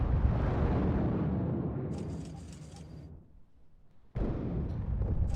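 An A-10 attack jet strafing ground targets in the Cold War strategy game WARNO: a loud, sustained roaring rumble that thins and drops away briefly, then bursts back in at full strength.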